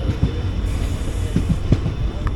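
A passenger special train rolls along the Shoranur bypass line in Kerala, its wheels clicking rhythmically over rail joints under a steady, loud rumble heard close by.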